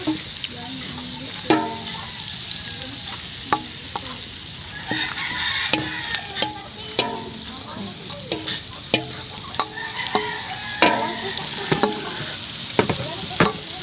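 Banana blossom sizzling as it fries in a pan, with a steady close hiss and frequent clinks and scrapes of a stirring utensil all the way through, no voices.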